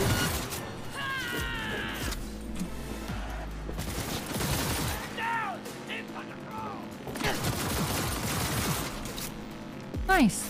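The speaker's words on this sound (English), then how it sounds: "The shooting in this game is very fun." Rapid gunfire in Cyberpunk 2077 crackles in repeated bursts and single shots amid chaotic combat effects, with impacts and mechanical clatter between volleys and a brief spoken word from a player.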